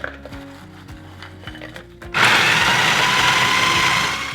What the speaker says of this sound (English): I'm gonna be doing it in a food processor. So we're gonna add these right in and pulse.